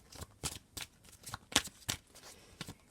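Tarot cards being shuffled by hand, a series of crisp riffling bursts in an uneven rhythm, close and fairly quiet, with no talking.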